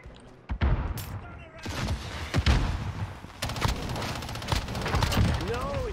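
Gunfire in Call of Duty Warzone (Cold War), irregular loud shots and short bursts popping up close, mixed with booms, with a voice talking in between.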